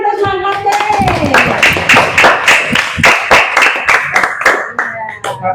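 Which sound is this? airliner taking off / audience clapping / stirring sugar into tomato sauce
audience clapping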